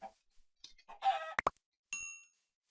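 Minecraft chickens make short clucking and squawking calls in quick succession, with a couple of sharp bursts and a brief higher call near the end, crisp and close.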